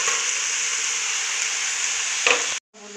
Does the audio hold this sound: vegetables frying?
yes